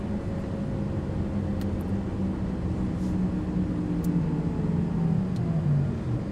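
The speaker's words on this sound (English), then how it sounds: "You hear like that motor, the motor, like whine, that whir" A Porsche Taycan Turbo electric car driving, its motor giving a steady whirring whine over a continuous low road rumble, close and even throughout with no talk.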